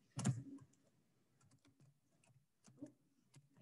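Typing on a computer keyboard during a written lesson on how the Roman Empire grew: a cluster of quiet key clicks, a long pause, then a few sparse taps.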